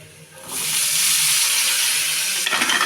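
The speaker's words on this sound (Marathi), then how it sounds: "कारलं घालून घेते आणि घालत छान असे परतून देते" Sizzle of bitter gourd (karela) and fried onion tossed into a hot pan, a loud steady hiss that starts abruptly after a quiet moment and keeps frying, with a brief stir near the end.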